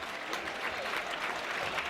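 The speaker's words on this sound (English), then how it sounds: "More sarcastic clapping." Scattered, sarcastic clapping from a football crowd at a 2004 First Division match between Burnley and Watford, a fairly faint, steady patter held at a distance across the stands.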